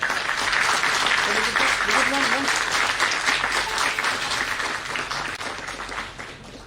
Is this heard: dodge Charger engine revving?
no